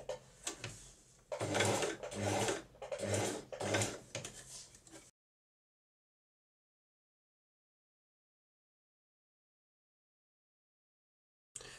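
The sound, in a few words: sewing machine stitching a bandana bib curve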